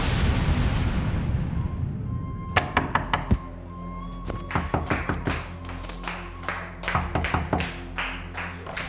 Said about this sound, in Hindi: क्यों दरवाजा पीट रहे हो?